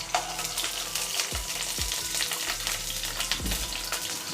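Green chillies and whole spices fry in hot oil for Tamil chicken kulambu, a continuous bright sizzle with a few soft clunks of a spoon or pan, close and unaccompanied by voices.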